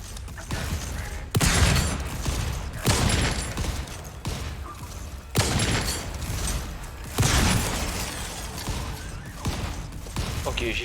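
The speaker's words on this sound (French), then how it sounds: "Pourquoi il tire sur moi, ce glandu?" Gunfire aimed at the player crackles through the video game Volcanoids as hostile drills attack, heavy broadband volleys recurring every second or two over a constant rumbling mechanical background, loud and close, with no speech.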